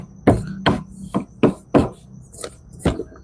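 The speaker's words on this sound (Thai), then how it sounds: "อันนี้เป็นข่านะข่านะครับที่ผมกำลังหั่นหรือซอยอยู่นี่ครับ" A knife slices galangal on a cutting board in a Tai kitchen, with seven crisp, close chops at an uneven, unhurried pace and quiet between strokes.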